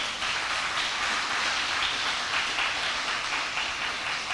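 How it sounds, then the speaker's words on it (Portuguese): A church congregation applauds the Lord during a worship service, a dense, even roar of many hands clapping together, loud and sustained with no talk over it. "Você quer aplaudir ao Senhor?"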